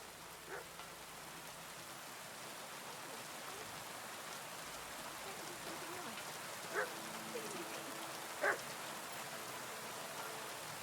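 Steady rain patters throughout while a dog barks a couple of times at a distance in the video game Kingdom Come: Deliverance 2, short sharp yaps standing out above the downpour.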